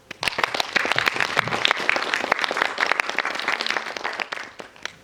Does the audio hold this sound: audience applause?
yes